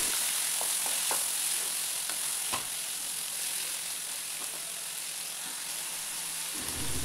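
Vegetables for a veg curry sizzle and fry steadily in a pan, a dense continuous hiss heard up close with a few faint clicks and no talking.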